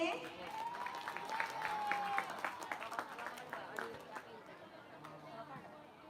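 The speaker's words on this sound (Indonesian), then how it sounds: "Tepuk tangan yang meriah untuk regu C." Audience applauding team C at a school competition opening, clapping and chatter swelling then fading, with a voice speaking over it.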